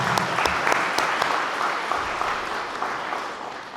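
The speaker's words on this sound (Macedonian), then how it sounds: "Ве молам за аплауз." An audience at a book launch claps together in warm, sustained applause, dense and even with a few sharper claps standing out, gradually thinning toward the end.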